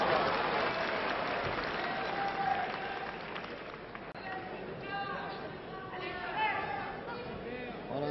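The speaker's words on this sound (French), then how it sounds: "On entend aller Cesca maintenant de plus en plus fréquemment dans la foule" A wrestling crowd cheers and applauds for Gilbert Cesca during his bout against René Ben Chemoul, a dense, steady roar of clapping and chatter that swells at moments beneath someone commentator's running talk.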